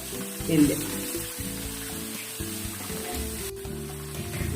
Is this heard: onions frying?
yes